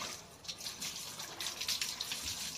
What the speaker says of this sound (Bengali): পেছন থেকে জল ঢালছে।